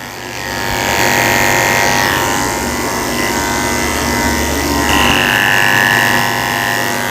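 Electric clippers buzz steadily and fairly loudly through a Shih Tzu's matted hair during grooming, a continuous motor hum with slight shifts in pitch as the blades work.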